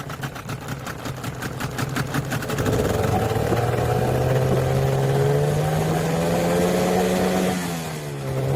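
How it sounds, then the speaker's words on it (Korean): A Tohatsu 9.8 hp outboard motor idles at about 900 RPM with a steady, even mid-pitched hum. Its tone rises slightly partway through and dips again near the end. "지금 초기 RPM이 아이들 RPM이 약 900 정도 되네요."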